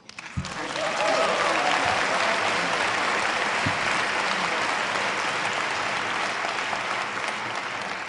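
Loud applause from a large audience at a 2009 debate between Christopher Hitchens and Dinesh D'Souza, sustained steady clapping that swells quickly and continues for several seconds.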